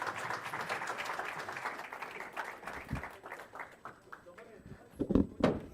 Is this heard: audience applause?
yes